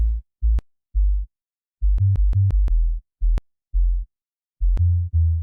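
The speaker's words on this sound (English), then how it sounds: "So what's actually happening here, this is just a sine wave." Deep sine-wave bass notes pulse in short bursts, with sharp clicks at some note starts, playing a stop-start rhythm with no other sound.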